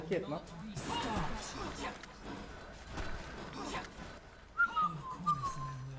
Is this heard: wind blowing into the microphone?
no